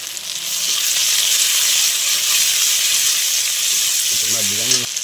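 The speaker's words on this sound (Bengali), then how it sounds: "পেঁয়াজ কুচি দিয়ে দিলাম, দুটো দারচিনির টুকরো দিয়ে দিলাম, আদা রসুন বাটা দিয়ে দিলাম" Chopped onion, cinnamon pieces and ginger-garlic paste fry in a pan for a chicken curry, with a loud, steady hiss of sizzling oil, and a voice briefly speaks near the end.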